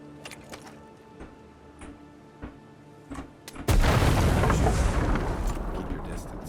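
In the Avowed video game a few light ticking clicks sound before a thrown grenade goes off with a sudden loud boom, followed by a long rumbling, crackling roar that slowly fades.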